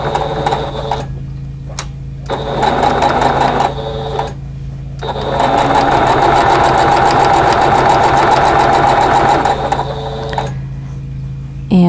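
A sewing machine chain-pieces quilt block pieces in loud, close bursts of rapid stitching, stopping and restarting several times with brief pauses between runs.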